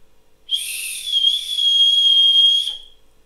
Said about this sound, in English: it works as a whistle.